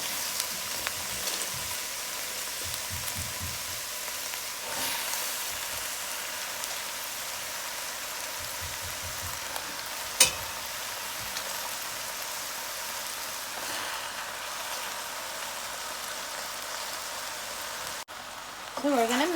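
Squash goes into a pot of goat stew and fries with a steady, rain-like hiss throughout, with occasional soft thumps and clatters and a sharp knock partway through.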